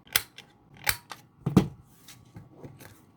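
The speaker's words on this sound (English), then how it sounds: "we're going to round the edges of just one side of the card" A corner rounder punches the edges of a handmade paper passport greeting card, giving sharp, close clicks in an uneven series of about six, with no talking.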